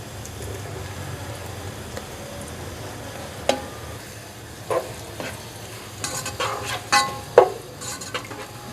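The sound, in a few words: onions frying in oil in a pot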